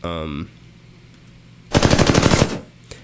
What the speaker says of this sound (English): That's a very basic sound for the player who is shooting at... the other player who's shooting at our player